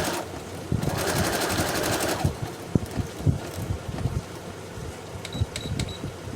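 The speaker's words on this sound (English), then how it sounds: "I'm just starting on a straight stitch, and then I want to do a little bit of zigzag." A sewing machine stitches a botanical journal cover with a straight stitch and then a zigzag stitch. A fast, whirring run is followed by quieter, uneven clicks and taps of the fabric being handled.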